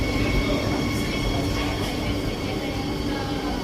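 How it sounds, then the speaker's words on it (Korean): A train pulls into a platform at a Paris station, a loud, steady rumble of rolling wagons and rail noise filling the space with no break, close by and continuous throughout. "2번 플랫폼에서 기차가 들어오면 탈 겁니다."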